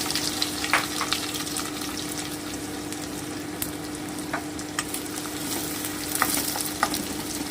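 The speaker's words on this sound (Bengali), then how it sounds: "এবারে আমি কুচনো পেঁয়াজটা দিয়ে দিচ্ছি" Chopped onion sizzles in hot oil in a kadai, a steady low frying hiss with scattered sharp crackles and pops, moderately quiet and close.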